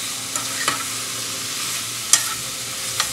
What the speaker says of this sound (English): Put the pineapple in here and kind of get a little cooking on that.